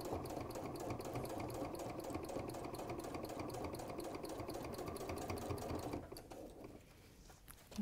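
Sewing machine running steadily as it stitches decorative stitches around the edge of an autumn animal or floral cushion, a fast even whirr close by that stops near the end, leaving quiet handling sounds.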